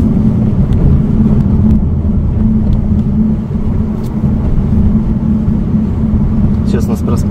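Kia Stinger GT-Line pulling away, heard from inside as a loud, steady low engine and road rumble, with faint voices under it.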